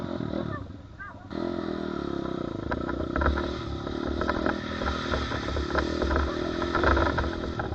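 A budget kids' dirt bike engine runs and revs nearby, a rough buzzing drone with rising and falling throttle and some rattling clatter, continuous throughout.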